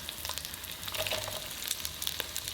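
Ginger, shallot, garlic and scallions stir-fry in hot oil in a pan for Taiwanese braised pork belly, giving a soft, continuous sizzle with light crackles throughout.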